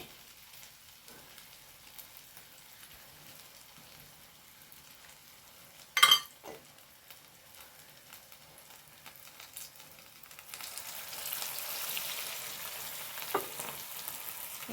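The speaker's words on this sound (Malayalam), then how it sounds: "ഇത് ഞാൻ എണ്ണയിലേക്ക് മെല്ലെ വെച്ച് കൊടുക്കുന്നുണ്ട്" Pieces of batter fry in hot oil, giving a soft, steady low sizzle with a brief sharp crackle midway and a louder hiss building toward the end, and no voices.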